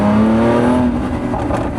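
A Lamborghini's naturally aspirated V engine with a single-clutch gearbox revs hard, its pitch climbing and then holding a loud, droning snarl, close and continuous throughout the short burst with no voices over it.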